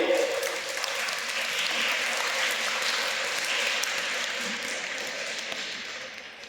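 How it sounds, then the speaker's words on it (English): Audience applause at a school Grandparents Day event, a steady wash of many hands clapping that holds for several seconds and slowly tapers off at the end. "So give a big round of applause for it."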